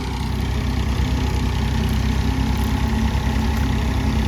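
A tractor-powered wheat threshing machine runs steadily on a farm field during harvest season, its deep engine drone and mechanical rumble continuous and close throughout, with no talking.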